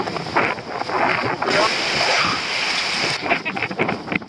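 Strong headwind buffets the microphone during an outdoor obstacle race, a steady roaring rush of air that swells and eases, with runners talking over it.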